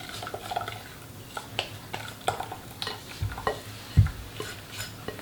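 A spoon stirs praline cream mixture in a small saucepan over the heat, giving soft repeated scraping and clinking strokes against the pan with a faint sizzle underneath and one sharper knock near the end.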